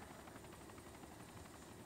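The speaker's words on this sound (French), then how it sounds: "Hélicoptère en vue, 2 hélicoptères en vue." Helicopters in the Arma 2 DayZ mod game, a very faint, steady rotor drone with a low rumble and a fine repeating chop, heard distantly and alone without speech.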